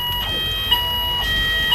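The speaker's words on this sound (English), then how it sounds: "That is the fire alarm, by the way" Fire alarm sounding indoors, a loud, steady, high-pitched electronic tone that holds continuously, with a couple of faint thumps beneath it.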